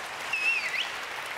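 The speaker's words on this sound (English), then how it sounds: "Huge round of applause for Leah and Father Mussie." An audience at a One Young World conference event applauds in a brief, even wash of clapping, with a thin whistle cutting through partway.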